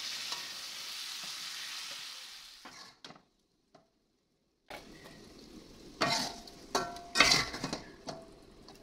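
Tempe frying in hot oil in a home kitchen, a steady sizzle that cuts out briefly, then returns with clatters of utensils stirring and scraping in the pan.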